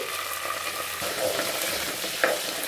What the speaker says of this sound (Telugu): ఫస్ట్ కరివేపాకు వేయాలి నూనెలో బాగా ఫ్రై అవ్వనివ్వాలి కరివేపాకు